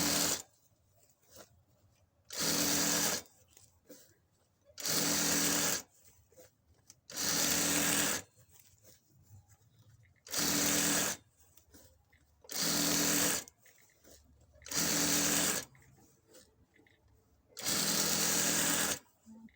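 A sewing machine stitches an elastic waistband on trousers in eight regular bursts of a few seconds each, loud and close, with quiet pauses between them where someone talks.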